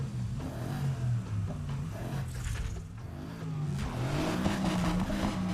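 A BMW with a German V8 revs in the Need for Speed Heat racing game, its engine note rising and falling continuously and loudly across the clip, up close with no talking.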